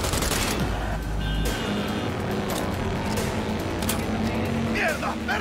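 Rapid assault rifle gunfire in Cyberpunk 2077, bursts rattling over a rumbling vehicle engine during a car chase, loud and close, with a voice speaking briefly.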